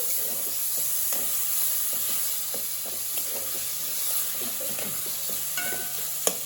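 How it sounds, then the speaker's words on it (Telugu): Ginger garlic paste and tomato pieces frying in a pan, a soft steady sizzle with occasional stirring scrapes and light taps, no talking. "ఇది కూడా ఒక 1 మినిట్ ఫ్రై అవ్వాలి. ఇదిగోండి మనకి టమాటా కూడా కొంచెం ఫ్రై అయింది."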